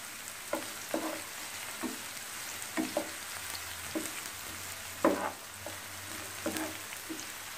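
Carrot and potato stir-fry being stirred in a pan, with a quiet background sizzle and repeated soft scraping strokes of a spatula at an uneven rhythm.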